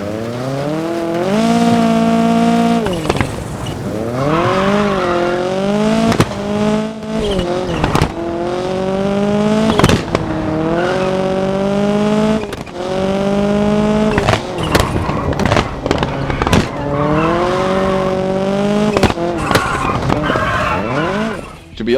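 Toyota rally car engines from the WRC 10 racing game scream loudly and steadily, revving through gear changes in a continuous high-pitched roar with repeated shifts and sharp bursts.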